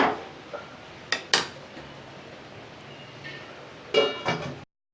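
A lid set on a pot of brinjal kara kuzhambu, giving a few sharp metallic clacks near the start and a short rattling clatter near the end over a faint steady background, with no voices.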